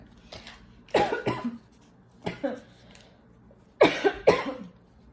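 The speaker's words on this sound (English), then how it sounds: "Sorry about my little cough fit." A fit of harsh coughing in three separate bursts, each with two or three loud hacks, close by with short quiet gaps between.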